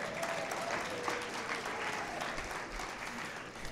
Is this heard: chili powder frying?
no